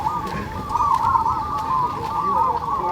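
A Javanese zebra dove's (perkutut) rolling, trilling coo repeats steadily over low background noise, fairly close and clear.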